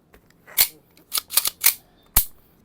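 A Lancer Tactical airsoft gun with blowback and a 30-round magazine fires at close range. About five crisp snapping pops come at an irregular pace, a couple of them in quick succession, against near silence.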